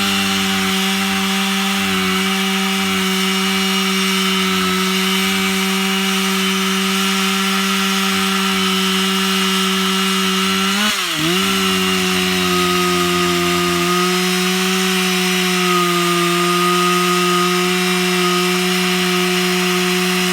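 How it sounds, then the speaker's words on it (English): A chainsaw cuts wood with a steady, loud, sustained whine and buzz, close by, its pitch dipping briefly midway as it bites, with no talk. "We're going to make a cut with the chainsaw, okay?"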